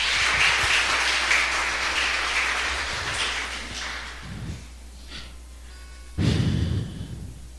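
A church congregation claps for a few seconds, the applause fading out, then quieter scattered sounds and a brief breathy burst near the end.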